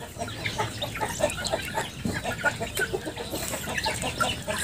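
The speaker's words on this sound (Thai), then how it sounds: "ให้พี่น้องเบิ่งบรรยากาศฟาร์มไก่หน่อยๆของผมนำครับพี่น้องครับ" Free-range chickens cluck and murmur together on a small home chicken farm, with overlapping soft clucks and occasional sharper calls in a busy, continuous flock chatter at close to moderate distance.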